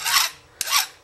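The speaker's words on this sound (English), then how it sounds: "You go in with your file, square it up if you need to." A metal file rasps across the cut end of a brake line in two short, close strokes, each a bright scraping sweep, with a tiny click between them.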